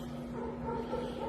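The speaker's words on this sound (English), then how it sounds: "sorry about the dogs, they're freaking out." Dogs bark and yip faintly in the distance, their muffled calls blending with a low steady hum.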